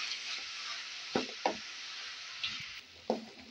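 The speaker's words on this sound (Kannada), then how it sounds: "ಇವಾಗ ಇದನ್ನು ಕೂಡ ನಾನು ಸ್ವಲ್ಪ ಚೆನ್ನಾಗಿ ಮಿಕ್ಸ್ ಮಾಡಿಕೊಂಡು ಇವನ್ನು ಫ್ರೈ ಮಾಡ್ಕೊಳ್ಳೋಣ" Radish greens with onion and tomato frying in a pan for a mulangi soppina palya: a steady, bright sizzle with several sharp knocks and scrapes as the mixture is stirred.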